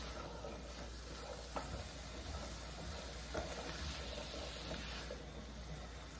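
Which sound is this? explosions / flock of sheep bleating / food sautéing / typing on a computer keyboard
food sautéing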